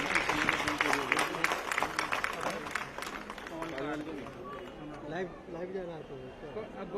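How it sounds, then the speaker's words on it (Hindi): A political gathering audience claps to welcome a speaker, the applause loud at first and then thinning into crowd chatter while a voice speaks over it. "जोरदार तालियों से स्वागत करिए।"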